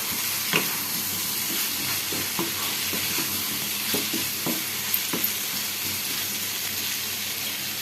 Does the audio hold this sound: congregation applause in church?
no